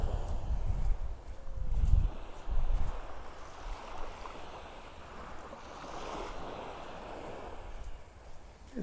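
Gulf of Mexico waves wash onto a North Naples, Florida beach on an incoming tide with a steady roar, louder surges early on, and some wind rumble across the microphone.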